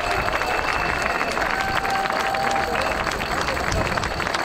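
A crowd at an anti-Macron protest rally on Place de Fontenoy in Paris breaks into loud, thick applause mixed with shouts and a murmur of voices, close and continuous throughout.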